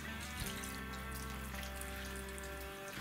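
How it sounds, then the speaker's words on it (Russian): Steady running water from a tap filling a container, 400 grams of water added to 100 grams of malt, a continuous rushing stream with no voices. "Добавляем воду."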